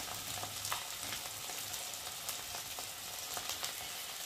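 Lote fish frying with chili powder, cumin powder and spices in a pan, a steady close sizzle with faint scraping stirs scattered throughout, fairly quiet and without talk.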